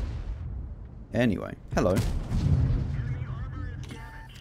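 Heavy artillery fire in World of Tanks booms in deep, rolling blasts, with someone talking casually over and between the shots.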